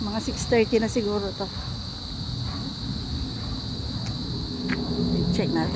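Crickets chirp steadily at dusk on a grassy events-place lawn, a continuous high, thin insect trill running through the whole stretch, with someone talking briefly at the start.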